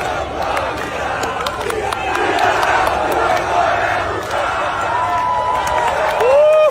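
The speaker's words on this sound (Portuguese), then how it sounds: "Torcida alvinegra marcando presença sempre na capital paulista" Ceará supporters at the Morumbis stadium in São Paulo chant together as a dense, loud crowd roar, with sustained voices swelling steadily and a louder rise near the end.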